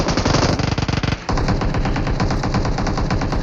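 Rapid automatic gunfire in a squad-based shooter video game, loud and close, with one long burst of fast shots, a brief break, then another dense stream of firing.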